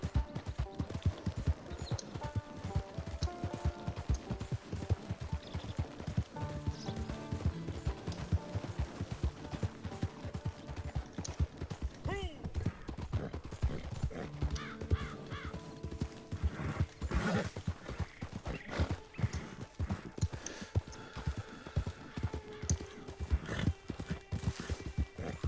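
Horse hooves pound rhythmically in Red Dead Online during a long ride, a dense galloping beat with occasional whinnies and snorts, steady and fairly loud throughout, with no speech.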